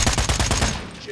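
Video game gunfire, a fast burst of about six loud, close automatic shots in steady rhythm that cuts off abruptly, leaving a brief quiet tail.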